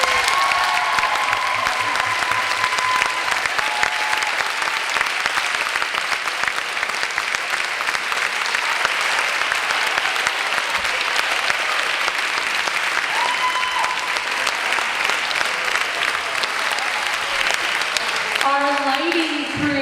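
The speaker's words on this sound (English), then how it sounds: "So let's give a round of applause for all of our set and prop crew." Steady, dense applause from a school audience at a night performance of the musical Annie Jr., filling the hall from start to finish, with some voices and cheers mixed into the clapping.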